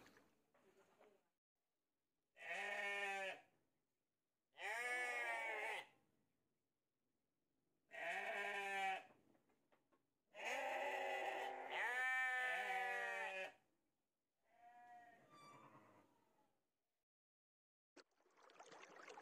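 A ewe sheep that refuses to nurse her lamb bleats loudly and close, five or six long wavering calls separated by short silences, with a faint voice near the end.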